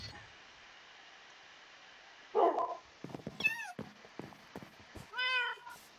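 A cat meows twice in a game-like scene, two clear rising-falling calls a few seconds apart, preceded by a short rustling bump and some soft clicks, against a quiet background.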